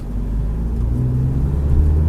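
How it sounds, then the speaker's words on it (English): A family car is heard under way on a city street, a steady low engine rumble and road drone that swells slightly as it picks up speed, close and continuous with no talking. "Our car actually has a little bit of zoom compared to our last one."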